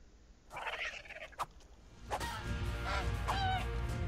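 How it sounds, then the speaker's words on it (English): Dodo birds in the video game ARK: Survival Evolved give a few honking, goose-like calls, a short burst near the start and then a longer, louder run of squawks over a rumbling game background. "kill those dodo birds."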